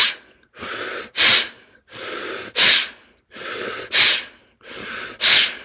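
Four rounds of forceful breathing drawn in through the mouth, each a long rushing inhale followed by a sharper, louder burst, repeated in a steady rhythm at close range.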